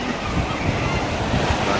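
Ocean waves wash in steadily at a beach where people are swimming, a continuous broadband rush with wind buffeting the microphone and faint voices in the background.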